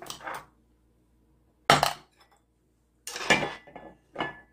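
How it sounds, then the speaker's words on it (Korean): Braised anchovies and shishito peppers being dished into a bowl, with three separate bursts of clinking dishes and utensils, sharp and close, split by quiet pauses. "요걸 이렇게 해가지고 그릇에 담아볼게요."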